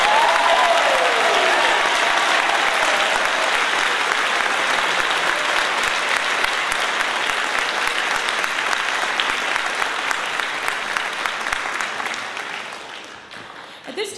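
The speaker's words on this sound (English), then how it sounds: "So let's have a hearty congratulations and another big round of applause for all of our student doctors." An audience at a medical school white coat ceremony gives a long, loud round of applause for student doctors, dense clapping that fills the hall and slowly tapers off toward the end.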